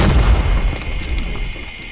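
A loud, deep Call of Duty Mobile grenade explosion booms, with a rumbling low-end tail that fades over a couple of seconds.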